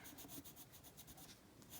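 A colored pencil rubbed over paper in steady back-and-forth strokes, a soft close scratching that repeats rhythmically, used to fill in flower centers with yellow ochre.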